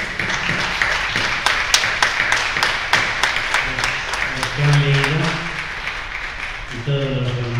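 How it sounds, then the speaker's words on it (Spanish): A church congregation at a Spanish-language First Holy Communion claps for the children, sharp hand claps sounding over voices that talk and sing, the clapping thinning toward the end. "yo creo que estos niños se merecen un aplauso."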